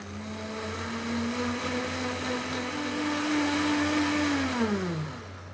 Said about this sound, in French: Il faut un bon mixeur, c'est important. Qui mixe les glaçons.